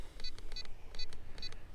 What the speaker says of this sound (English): the radio is beeping now every time I steer to full lock